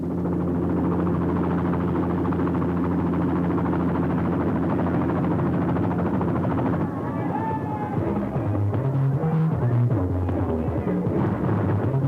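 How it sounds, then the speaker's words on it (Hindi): A helicopter arrives during a scene in a Hindi-dubbed South Indian comedy film. Its steady, throbbing rotor drone fills the first several seconds, then busier sounds and faint voices take over. "हेलीकॉप्टर से आप आए?"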